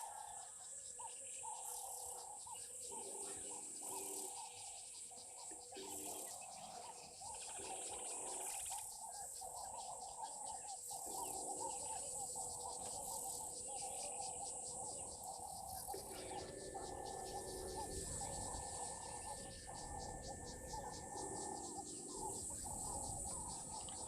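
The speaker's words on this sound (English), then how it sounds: "Can hear a laughing dove now as well, joining the chorus of the other birds." A laughing dove's soft repeated cooing rises among a chorus of other birds chirping and insects trilling at a waterhole, the calls moderately distant and layered over a steady outdoor background.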